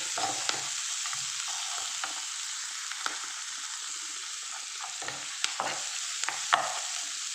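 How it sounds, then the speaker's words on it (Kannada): Onions fry in a pan with a steady, close sizzle, and a utensil scrapes and stirs at irregular moments throughout. "ಇವಾಗ ಆನಿಯನ್ನು ಹಾಕಿದ್ದೀನಿ ಇದನ್ನು ಒಂದೆರಡು ನಿಮಿಷ ಫ್ರೈ ಮಾಡೋಣ"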